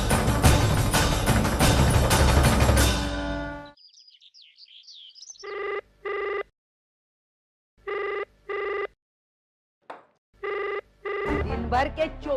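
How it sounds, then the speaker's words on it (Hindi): A telephone in a home rings with several short repeated bursts in a regular on-off pattern, loud and close, following a stretch of background music and ending as other sounds return. "दिन भर के 24 घंटों में 25 घंटे ये फोन आता है।"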